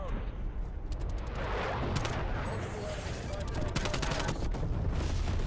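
Dense automatic gunfire and bursts of shots from the video game Call of Duty Cold War, loud and continuous throughout, with a player talking over the battle noise.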